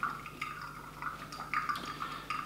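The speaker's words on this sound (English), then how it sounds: "My pouring motion is such that it's slow and steady in a circular motion." Hot water trickles and drips through a Kalita Wave filter cone during a slow, steady circular pour, a soft continuous liquid patter with small irregular drops, close and fairly quiet.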